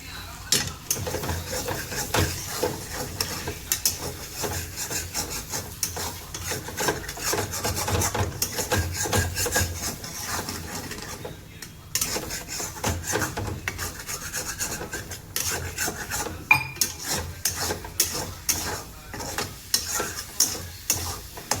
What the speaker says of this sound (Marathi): आता व्यवस्थित असं भाजून घ्यायचं अंडी आपल्याला.